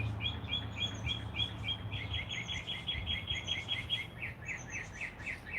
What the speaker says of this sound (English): We don't usually get a lot of songbirds here.